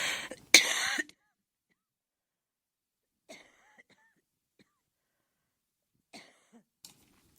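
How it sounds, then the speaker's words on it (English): A loud cough bursts out at the start in a quiet room during a news broadcast, followed by a few faint throat sounds spread through the silence. "I should cough during a healthcare segment"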